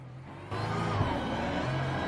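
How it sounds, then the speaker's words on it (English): Race car engine at Le Mans picking up near the pit lane, its steady drone stepping up abruptly in loudness and pitch after a moment and holding there, close and continuous. "just for a moment there, the engine picked up."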